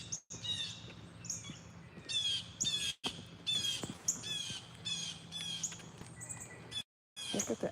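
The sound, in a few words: birds calling in a tree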